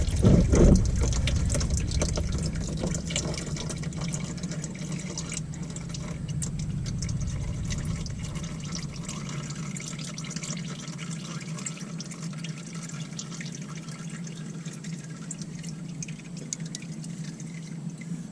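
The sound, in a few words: engine oil draining from Dodge Grand Caravan into drain pan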